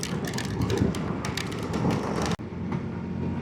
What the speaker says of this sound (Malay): Sini pun dah hujan